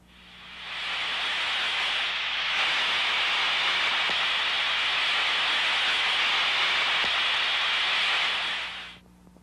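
A steady, loud rushing hiss of a steam leak heard through an ultrasound detector, continuous for several seconds with no voices, then cutting off abruptly.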